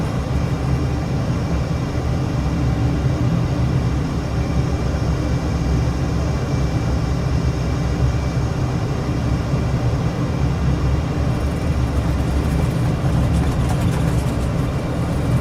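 Fighter jet engine in Microsoft Flight Simulator with the AeroTone sound mod, a steady, loud, low rumbling roar that holds unchanged throughout, with no voices.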